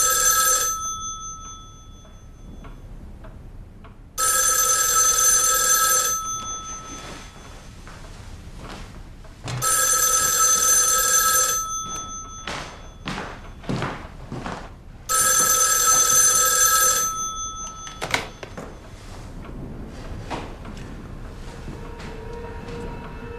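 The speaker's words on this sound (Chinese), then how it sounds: "你们叶局长电话，说好的，我不用回避，请接吧。" A telephone bell for an incoming call rings loudly in four long bursts, evenly spaced, with quiet room sounds and small knocks in between.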